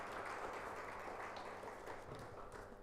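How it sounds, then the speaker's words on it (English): University of Nairobi audience applauding after the opening speech of a youth entrepreneurship training programme, a steady wash of many hands clapping throughout at moderate loudness with no break. "Let's give him a better clap"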